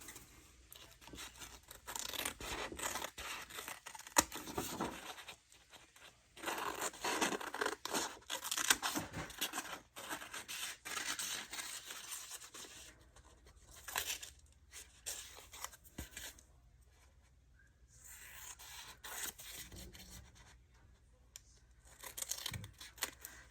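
Scissors trimming paper floral and drip elements for a handmade tag, a quiet run of snipping cuts and rustles with short pauses between them, and no talking.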